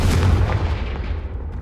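In the Hogwarts Legacy video game, a Confringo spell sets off a loud, booming blast with a deep rumbling tail that fades over about a second and a half, with no talk over it.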